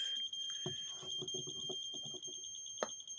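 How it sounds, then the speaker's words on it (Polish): A homemade battery-cell spot welder's warning alarm beeps continuously, a steady high-pitched electronic tone, with short clicks and rattles underneath and one sharper click near the end. "klikamy i następuje alarm niebezpieczny nastawy czasu dla zgrzewania ogniw"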